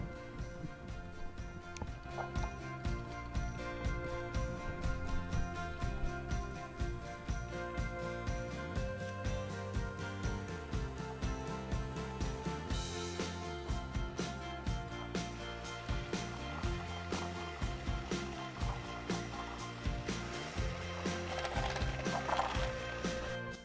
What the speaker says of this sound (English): we're gonna beat the sugar and the egg yolks until pale yellow